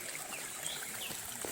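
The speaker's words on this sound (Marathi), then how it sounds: "ह्या छोट्या छोट्या ओढ्यांना ना कंटिन्यू 12 महिने पाणी चालू असतं" A small village stream on farmland trickles quietly and continuously, a faint steady babble of running water with no voices.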